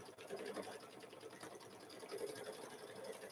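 An embroidery machine stitches a chicken quilt block in the hoop, a steady, fast mechanical whir with a continuous rhythmic needle chatter, moderately quiet and close.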